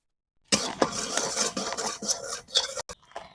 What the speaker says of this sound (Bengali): তো এবার আমি সুজিটা একদম হালকা ভেজে নেব।